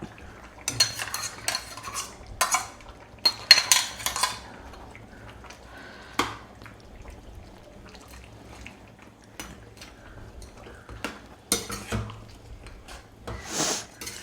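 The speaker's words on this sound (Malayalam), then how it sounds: "നല്ലപോലെ ഇളക്കി യോജിപ്പിക്കാം." Spoon stirring ground almond and peanut paste into a pot of mother-style mutton stew, with repeated scraping clinks against the pot in irregular bursts, fairly close and fairly quiet.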